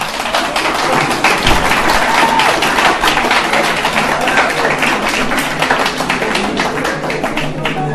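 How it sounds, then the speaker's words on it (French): Steady, dense audience applause fills a lecture hall throughout, loud and continuous with crisp overlapping claps and no voices on top. "C'est bien d'applaudir"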